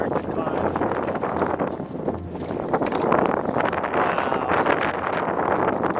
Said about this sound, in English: It is windy and cold up here as we start to climb.